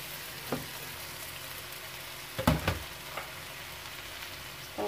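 Quelites greens hit a pan of browned onion with a soft, steady frying sizzle and a few louder clattering bursts from stirring; no one talks.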